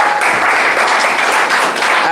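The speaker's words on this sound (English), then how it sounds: "A round of applause for our first." Crowd applause at an alumni reunion evening, loud continuous clapping that fills the whole stretch, with voices mixed in underneath.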